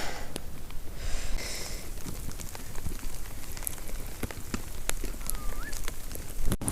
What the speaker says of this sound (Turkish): Böyle bakın nasıl yağıyor.